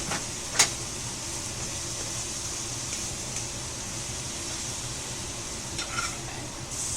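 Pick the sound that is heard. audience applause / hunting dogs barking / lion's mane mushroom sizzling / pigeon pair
lion's mane mushroom sizzling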